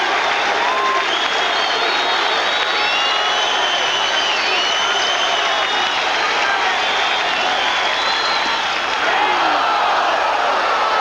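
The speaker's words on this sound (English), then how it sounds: "We'll listen to the crowd again as the Mets lead 5-2" A dense, steady roar from a baseball stadium crowd at a Mets home game against the Montreal Expos in 1990, with applause, cheering and scattered whistles and shouts rising over the continuous wash.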